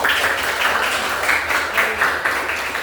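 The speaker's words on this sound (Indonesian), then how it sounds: "mari kita tepuk tangan untuk hasil diskusi pada hari ini" Classroom applause from students after a discussion session, a loud, continuous round of many hands clapping together with rhythmic surges.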